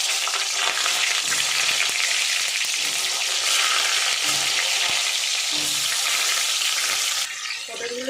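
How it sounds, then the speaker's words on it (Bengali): Pointed gourds sizzle loudly in hot mustard oil with salt, a dense continuous frying hiss with occasional stirring clatter, the sizzle dropping away near the end. "লবণ দিয়ে আমি এবার পটলগুলো ছেড়ে দেবো।"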